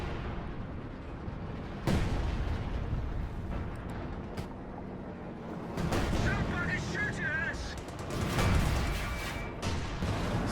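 A Company of Heroes 2 battle plays out with gunfire and mortar shots: several booming blasts and cracking bursts spread across the stretch, under steady spoken commentary.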